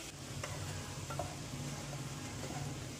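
Cabbage stir-fry with green chili and salt stirred in a pan, a soft continuous sizzle with light scraping clicks from the spoon, near and quiet, no voices.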